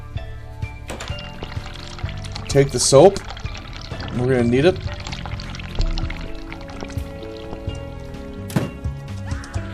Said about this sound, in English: Run hot water.